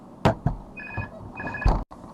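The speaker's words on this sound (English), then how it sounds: "Hold on, I've got a phone call." An electronic telephone rings with an incoming call during a Minecraft-style modding session, giving two short warbling trill bursts close by between brief thumps and room noise.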